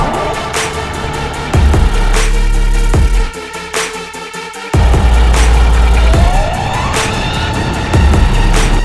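An ARRMA Limitless 8s RC car driving, its high electric whine rising and falling in loud, close passes, with a sharp drop around mid-clip before the motor screams up again.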